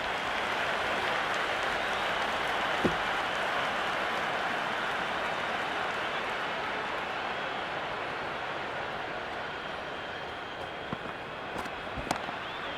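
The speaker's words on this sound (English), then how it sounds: "It's evident and ever so audible that the crowd is at near bursting point at today's play." Simulated cricket crowd in Cricket 26 during an England versus New Zealand match, a steady, distant-sounding roar of cheering and applause holding level throughout with a few sharp pops.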